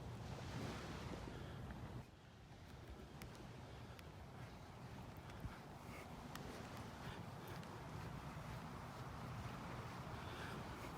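Faint ocean waves washing onto a wide beach in North Naples, Florida, with a continuous soft surf wash and wind rumble, distant and low in level.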